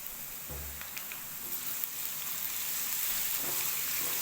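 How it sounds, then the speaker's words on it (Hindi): Garlic ginger paste fries with onions in oil, giving a soft, even sizzle and hiss that swells slightly toward the end, with a light stir or clunk early on and no talking. "अब लहसुन अदरक की भी थोड़ी सी बुनाई कर लेते हैं।"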